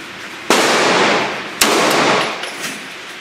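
Gunfire in the video game Battlefield: two sharp, loud shots about a second apart, each followed by a long noisy rumbling decay, heard close with no talk.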